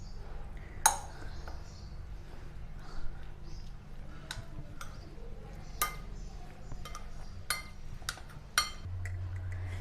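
A spoon mixes soya chunks with egg in a bowl, giving sparse, quiet clinks against the dish at irregular intervals over a low, steady background hum.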